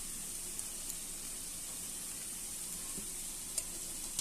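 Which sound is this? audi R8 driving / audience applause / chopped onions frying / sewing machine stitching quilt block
chopped onions frying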